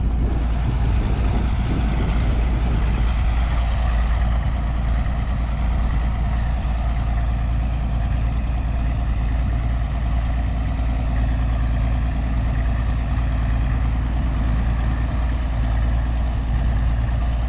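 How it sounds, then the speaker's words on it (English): A Minneapolis Moline A4T tractor engine runs continuously on a shakedown drive, a loud, steady low rumble with a constant throbbing beat and no talking throughout. "It's just a cool tractor."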